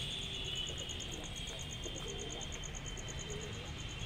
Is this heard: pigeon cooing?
yes